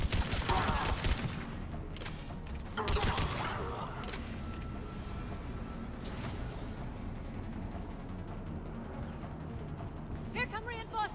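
Sustained bursts of automatic gunfire in Mass Effect 3 during a fight on Omega, dense and loud, with explosive thumps and mechanical clatter under overlapping voices.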